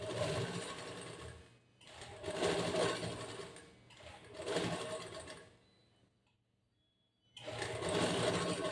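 Sewing machine stitching along the armhole side of a blouse, running in three steady bursts with brief pauses between them, a short silence, then a final run. Close and fairly quiet, no talking.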